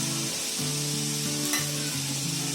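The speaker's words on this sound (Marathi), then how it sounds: "आता आपली चटणीची बघा ही साल भाजायला ठेवली आहे तव्यामध्ये" Ridge gourd peel roasting on a hot tawa over a low flame for chutney gives a steady, close sizzle with a faint tonal hum running underneath throughout.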